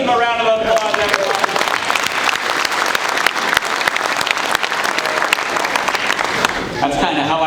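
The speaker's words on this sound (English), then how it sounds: "Let's give him a round of applause, everyone." Audience at a submarine veterans club induction giving a round of applause, dense continuous clapping from a room of people, with voices briefly at the start and end.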